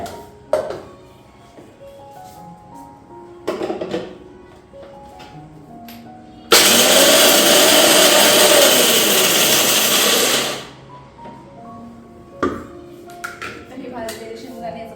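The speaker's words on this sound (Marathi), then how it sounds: "शेंगदाण्याचा कट करून घेतला" A kitchen mixer grinder grinds roasted peanuts in a loud, steady whirring burst of about four seconds, with quieter clatter and handling sounds before and after.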